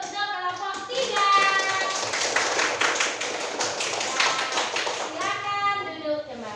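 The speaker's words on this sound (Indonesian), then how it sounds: "Kita kasih aplaus untuk kelompok tiga." A classroom of fifth-grade pupils applauds a group, a dense burst of hand clapping swelling and holding for several seconds, close and lively, with children's voices at the start and end.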